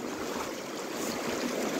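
A river in Himachal runs beside a sandy beach, its water rushing in a steady, close, broadband wash with no voices.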